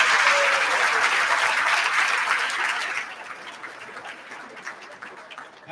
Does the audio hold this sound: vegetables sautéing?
no